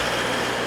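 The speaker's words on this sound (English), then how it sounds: "Now we're at the train station in Ystad." A train at the small railway station in Ystad on a summer day, heard as a steady, close broadband rumble that runs unbroken through the short moment.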